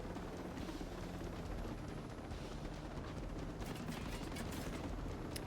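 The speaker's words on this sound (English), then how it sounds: "especially since I have a helicopter" Helicopter in the video game Ghost Recon Breakpoint, a dense, continuous rotor and engine roar filling the scene, with sharper bursts of gunfire-like cracks near the end.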